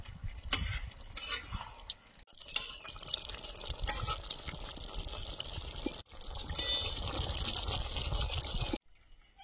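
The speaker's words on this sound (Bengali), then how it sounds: "তরকারিটা ঢেলে নিচ্ছি" Home-cooked Bengali curry with a freshly ground special spice mix being poured out of a pot, a steady wet pouring and stirring rush with sizzling bursts, loud and close, stopping abruptly near the end.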